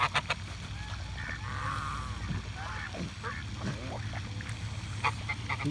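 Geese honk and ducks call at a park pond where birds are being fed bread, with overlapping honks and quacks over a steady outdoor background.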